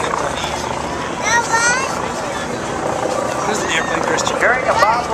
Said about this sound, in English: We'll be full of Skyraider, flown by Chuck Gardner and Julie Wood.